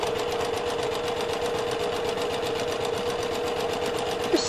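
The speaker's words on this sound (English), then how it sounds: "My machine's a bit noisy. I wonder why. I gotta oil it." A noisy domestic sewing machine stitches around a pocket edge on a drawstring jewelry travel pouch, giving a fast, steady mechanical chatter with an even rhythmic whir at close range.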